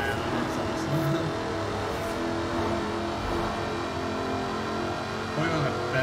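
A 5-litre supercharged V8 engine roars steadily in the Forza Horizon 4 racing game, a dense continuous drone while a voice talks over it.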